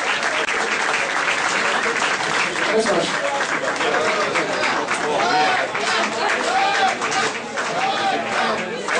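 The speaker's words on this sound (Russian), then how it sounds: "Давайте похлопаем, а?" Loud, sustained applause from an audience at a Belarusian Eurovision party in Oslo, dense clapping filling the whole stretch with crowd chatter and voices mixed in.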